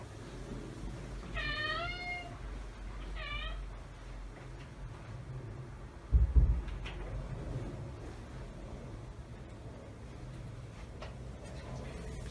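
A pet cat meows twice for food, two drawn-out plaintive calls close by in a quiet room, followed by a brief thump and then near silence.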